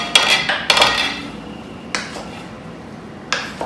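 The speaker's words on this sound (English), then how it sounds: "Let's give it one last stir around" Beef stew being stirred in a crock-pot, a few loud clanks and scrapes of a utensil against the pot spaced over a few seconds, close and without talk.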